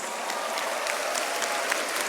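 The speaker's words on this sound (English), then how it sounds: "graduates, please also give yourselves a big round of applause." Graduates at a senior high school graduation ceremony applaud themselves, a dense, steady wash of many hands clapping at even loudness throughout, with no voices above it.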